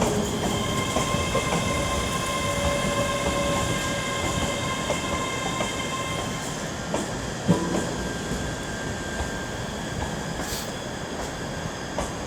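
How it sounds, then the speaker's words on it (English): A ScotRail class 385 electric train runs into Glasgow Queen Street with a steady motor hum and tonal whines, wheel squeal and occasional clicks and clunks, fairly close with no talk. "385009 with a terminating ScotRail service from Cumbernauld."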